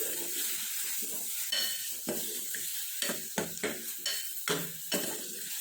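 Chopped tomatoes frying in a pan for tomato rice, a steady close sizzle broken by repeated clattering stirs of a spoon against the pan in an uneven rhythm, with no talking.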